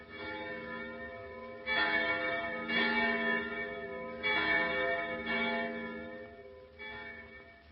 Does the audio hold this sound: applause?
no